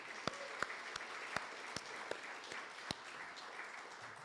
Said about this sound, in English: let me start my remarks with a big round of applause for them